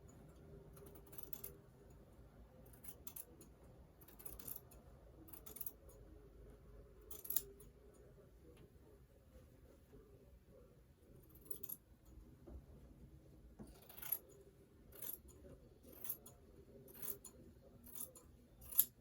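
Scissors snipping through excess fabric on a draped bodice back, a quiet series of short crisp cuts in bursts, a cluster early on and a denser run near the end, with no talking.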